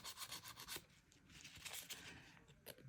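A nail file with a 100-grit side rasps around the sides of fingernails in short, quick scraping strokes, close and fairly quiet, with brief pauses between passes.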